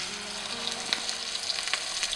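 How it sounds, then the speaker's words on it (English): Tilapia fish deep frying in very hot oil in a pan, giving a loud, continuous bubbling sizzle scattered with sharp crackles and pops. "When the oil is really hot in a pan, you want to add in your tilapia fish."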